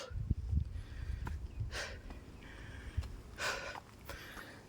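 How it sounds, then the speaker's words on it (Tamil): Someone pants and breathes heavily in close, audible gasps while climbing a small hill near Bangalore, over faint outdoor background noise. "அது சாப்பிட்டு கூட மூச்சு வாங்குதேப்பா."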